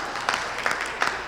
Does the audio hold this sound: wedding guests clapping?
yes